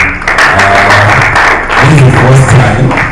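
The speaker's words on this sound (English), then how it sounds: "A round of applause for everyone." An audience at a mortgage banking association annual conference gives a round of applause, loud and sustained dense clapping from a crowd with a voice speaking over it.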